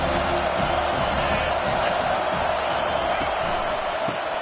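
Steady roar of a football stadium crowd, broad and continuous throughout with no clear peaks, heard as a distant wash of cheering under no close talk.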